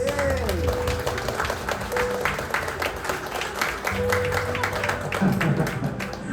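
Wedding guests at a Double Tree Hilton hotel reception in Surabaya clap steadily through a wedding kiss. The dense, sustained applause fills the room over soft background music.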